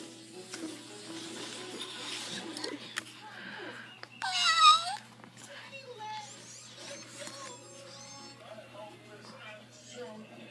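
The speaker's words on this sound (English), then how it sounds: "cat." Recorded cat meow from a Baby Einstein toy sound book, a single short electronic meow near the middle, set among quiet handling noise and soft talk.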